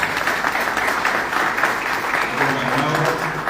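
Audience applause at a tribute ceremony honoring the Acuña brothers at a language and culture athenaeum, a steady wash of many hands clapping throughout, with a faint voice murmuring underneath.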